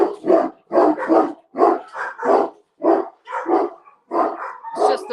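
A dog barks loudly at a house as the mailman comes by, about a dozen sharp barks in a quick, uneven string, close and alone.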